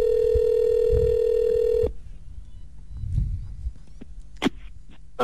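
Telephone dial tone holding steady for about two seconds, then cut off, followed by faint line noise and clicks as a number is dialed for a radio prank call.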